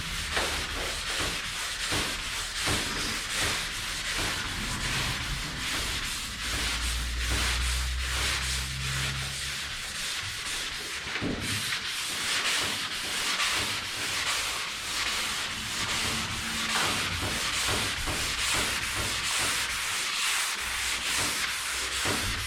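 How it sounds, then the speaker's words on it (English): Sandpaper rubs steadily over a car's paintwork in a 320-grit dry then 400-grit wet sanding job, a close, continuous rasping scrub with rhythmic back-and-forth strokes that runs without pause and with no talk. "Let the sandpaper sand."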